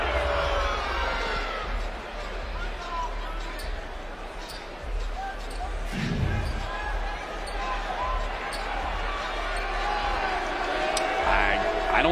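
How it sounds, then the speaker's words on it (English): A restless crowd murmurs and stirs through a college basketball arena during a men's NCAA game, Lipscomb against Tennessee, with a steady broad din, scattered shouts and occasional ball bounces beneath continuous commentary. "And now the crowd grows restless here."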